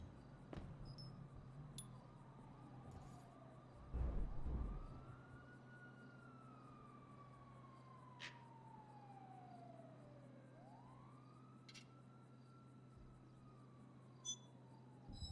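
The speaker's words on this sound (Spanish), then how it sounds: "que suenan ahí de sirena, ¿ves?" A police siren in a role-play video game wails in two long rising-and-falling sweeps, distant and faint over a steady low hum, with scattered clicks.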